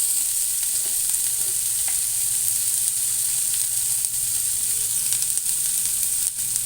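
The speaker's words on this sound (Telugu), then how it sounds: "ఇవి బాగా వేగాలండి" Salted stuffed brinjals fry in a covered pan with a dense, even hiss of hot oil, near and constant, with a few faint knocks underneath.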